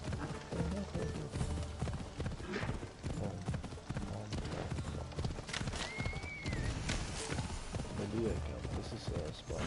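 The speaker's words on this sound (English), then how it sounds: "Alright, there's my horse." Horse hooves clip-clop steadily in an Assassin's Creed Odyssey game scene, mixed with music, ambient effects and someone talking over them.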